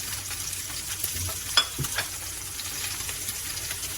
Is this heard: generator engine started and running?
no